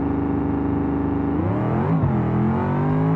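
A Gavril Burnside drag car on leaf-spring rear suspension and lowered front shocks, running a 200-shot of nitrous in BeamNG, roars at full throttle with a loud sustained engine drone that climbs in pitch through a gear change midway.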